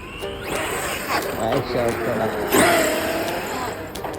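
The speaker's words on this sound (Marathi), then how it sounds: "इकडे कोणतरी छोटीशी कार चालवत आहे, खतरनाक आहे." A small car speeds around a little garden, its engine revving near and steady beneath continuous talking.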